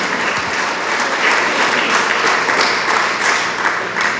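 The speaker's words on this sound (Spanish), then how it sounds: "Dele palmas." A church congregation claps together during a Spanish-language worship service, loud and close, with a steady, slightly rhythmic pulse running unbroken throughout.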